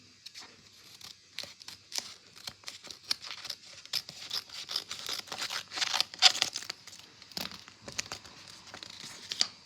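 Gift wrapping paper being cut and torn open, with irregular crinkling, rustling and tearing bursts close by, building in intensity over several seconds.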